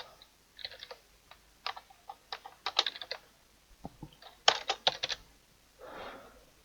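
Irregular bursts of typing on a computer keyboard, quick clusters of key clicks with short pauses between them, close and fairly quiet, with no voices.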